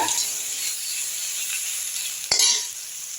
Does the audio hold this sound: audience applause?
no